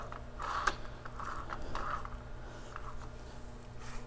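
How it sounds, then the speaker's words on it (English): Adjustable travel stops loosened on a machine table's X-axis slide along it, giving short scraping, creaking metal movements over a steady mechanical hum. "once you loosen these up, they're easy to slide."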